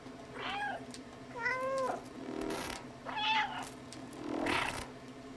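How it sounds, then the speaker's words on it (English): A cat meows four times in the video game Stray, each cry distinct and evenly spaced, fairly quiet over a low hum with no talking. "Hit the meow button."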